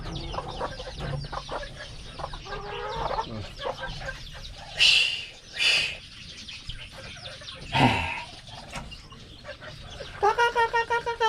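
Newly bought pet ducklings quack and squawk in a burst of loud, harsh calls, with several sharp cries standing out over a busy background of chirps and rustling, close by and uneven in rhythm.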